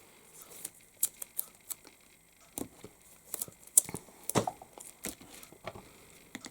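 Double-sided tissue tape being pulled, torn and pressed around the edges of a card blank, giving a close series of sharp crinkly tears and taps in an irregular rhythm, with no voices.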